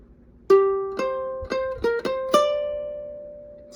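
Ukulele picking the first half of the solo: six clear plucked notes in a loose rhythm, each ringing out and fading, the last held note sustaining alone with no talk.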